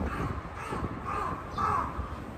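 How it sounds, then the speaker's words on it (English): A crow caws outdoors on a windy morning street in Tokyo, a few harsh calls standing out over steady wind and city background noise. "That's a crow."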